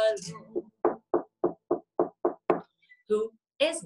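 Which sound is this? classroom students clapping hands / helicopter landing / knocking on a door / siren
knocking on a door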